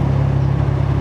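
Steady engine drone with a strong low hum, likely from a Kawasaki Z1000R motorcycle moving through slow, congested road traffic in Lipa on a hot day. It stays loud and close, with no break, and no one speaks.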